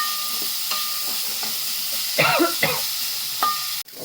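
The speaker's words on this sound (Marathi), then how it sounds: "चमचा मीठ टाकते भाजण्यासाठी कांदा गुलाबी कलरवर भाजून घेते" Onion frying in oil with a spoonful of salt in a pan, a loud steady sizzle with a few stirring scrapes and clicks of the spoon close up, no voices, ending on a sharp knock.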